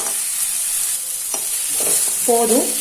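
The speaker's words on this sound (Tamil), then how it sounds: "லேசா வதக்குனா போதும்." Brahmi greens lightly sautéed in a pan for soup, a steady close sizzle and hiss with occasional soft scraping of a stirring spoon.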